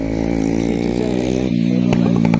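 A motorcycle engine drones steadily at close range on a street in a Romanian city, its harmonic roar holding loud and even before shifting in pitch partway through as it passes, with sharp clicks near the end.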